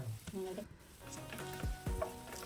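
Chopped tomatoes sauté in a pan with ginger, green chilli and garlic, a soft sizzle under clinks and scrapes of a spoon stirring against the pan, close and moderately quiet.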